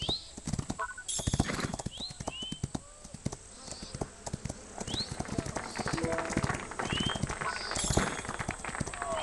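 Hooves pound in a fast, steady gallop up close in the video game Rival Stars, rhythmic thuds continuing throughout, with birds chirping faintly in the background.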